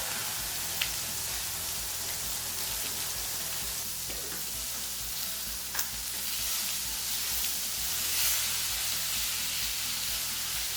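Pork chops fry in a pan with a steady sizzle and crackle, joined by a few sharp pops and scrapes of cooking, close and fairly loud, with no talking.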